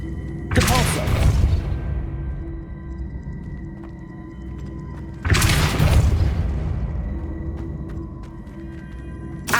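Two loud booming spell blasts of the Depulso force-push charm in the Hogwarts Legacy video game, each a heavy impact with a long rumbling decay, the second coming about four and a half seconds after the first, with no talking.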